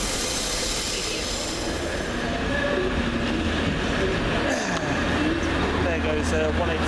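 Train 185138 rolls through Wakefield station, a loud continuous rumble of wheels on rails with rhythmic clatter and faint squeals as it passes close by, while someone talks over it.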